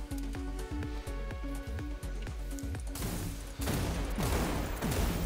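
Rocket launcher fire in the video game Wrack: Exoverse: a rapid string of repeated thumping shots, then a burst of crunchy, noisy explosions, loud and close with no talking over it.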